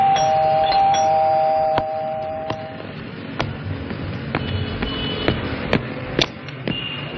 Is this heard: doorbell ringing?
yes